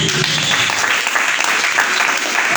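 A Pentecostal congregation in Mogi Guaçu claps continuously through a church service, a dense steady roar of applause with a few voices mixed in.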